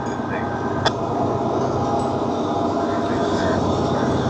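A CSX freight train approaching at Coffey's Cliff: a loud, steady broadband rumble and roar that fills the whole stretch, with a brief sharp squeal near the start.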